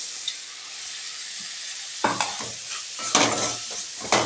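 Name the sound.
pepper tomato greens sautéing in a pan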